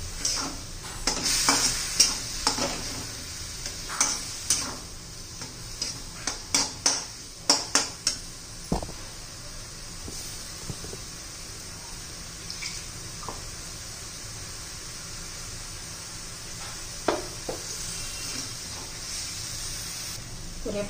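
Coconut, roasted peanuts, garlic and coriander paste sizzle in a pan for a capsicum vegetable dish, with repeated close scraping and stirring strokes over a quiet frying hiss.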